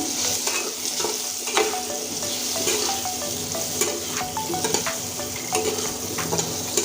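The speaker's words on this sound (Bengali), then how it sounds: "আলুটা লাল করে ভেজে নিব" Potato pieces seasoned with salt and turmeric, plus garlic and cumin paste, fry in a pan. There's a steady, close sizzle throughout, broken by repeated scraping and stirring clicks, and nobody speaks.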